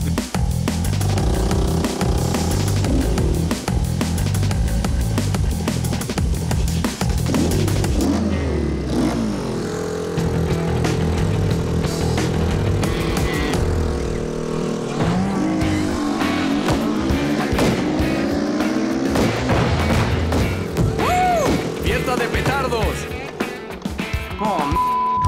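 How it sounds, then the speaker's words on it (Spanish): The nitro-fueled engine of a Power Skate wheelchair revs hard and races, loud and close. The howling, rising and falling engine note runs nearly nonstop, with shifts in pitch as it accelerates. "Mientras calientas tu avena, yo calentaré el motor."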